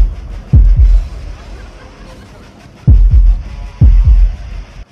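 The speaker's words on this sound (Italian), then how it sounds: "Un battito cardiaco?" A cartoon heartbeat effect in an animated SpongeBob parody, loud and deep, thumping in paired double beats that come three times with pauses between them.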